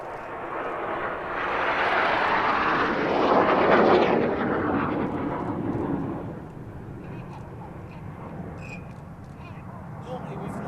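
Red Arrows jets roar past in a formation display, the following pilots swinging out in line astern; a broad jet rush swells to a peak around the middle, then fades to a distant rumble, with speech over it.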